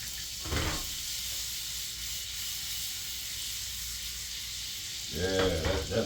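Garlic and shallots sizzle steadily in a skillet with a bright, even hiss close by, while a voice briefly speaks near the start and again near the end.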